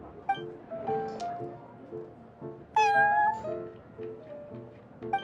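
A cat in the Genshin Impact video game meows repeatedly, a series of clear, close mews with one louder, drawn-out call in the middle over soft game music, no speech.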